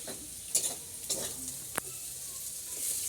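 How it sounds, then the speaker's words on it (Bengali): Carrots and potatoes frying in a pan, a soft steady sizzle with a few sharp clicks and scrapes of stirring, quiet and close with no talking. "গাজর আর আলু দিয়ে ভাজা করছি"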